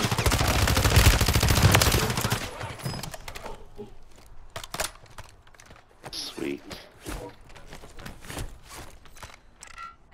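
Gunfire in a battle royale video game: a dense loud burst of rapid shots followed by scattered single shots and footstep-like clicks, with a player talking at times.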